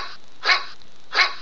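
A dog barks twice, two short, bright barks spaced under a second apart, fairly close and alone with no talking.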